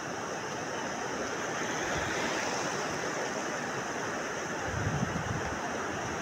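Sea waves rolling onto Bhuigaon Beach, a steady broadband wash of surf with some wind buffeting, continuous and fairly close, with no talking.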